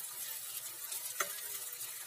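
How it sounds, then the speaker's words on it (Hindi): Spice masala with tomato frying in a pan for a rohu fish curry, a soft continuous sizzle with one small stirring scrape, faint and close. "अब हम इसमें टमाटर को डालकर फिर से भूनेंगे।"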